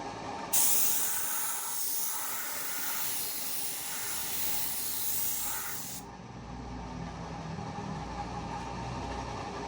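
A paint spray gun sprays steadily while a frontier is being painted, a loud continuous close hiss lasting several seconds before cutting off, leaving a lower mechanical rumble.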